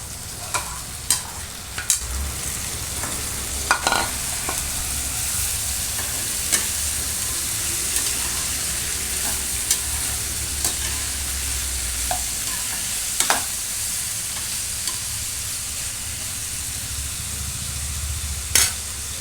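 Boiled vegetables are stirred in a pan for veg dum biryani with a steady sizzle and frying hiss, and a spoon scrapes and taps now and then. No one speaks.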